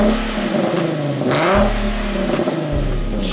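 Nissan 370Z with an ISR exhaust revving nearby, a loud raspy engine that climbs and falls through several throttle blips with popping crackle between them.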